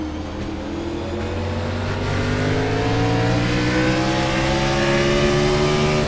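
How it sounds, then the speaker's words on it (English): Stock cars race on a track, including a number 3 Toyota, making a loud, continuous engine roar whose pitch climbs steadily, with no voices heard. "So the car that I would be concerned about is that next one in line, number 3 Toyota of Drew Herring."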